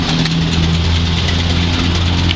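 A restored 1925 Ford Model T coupe engine runs steadily and loudly on a cold day, a close, even low rumble with no voices.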